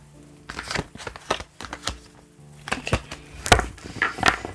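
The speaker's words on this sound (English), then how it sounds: "I'm sorry for the sound of the cards" Tarot cards being shuffled by hand: a series of brisk, crisp riffling and slapping bursts in an irregular rhythm, close and moderately loud.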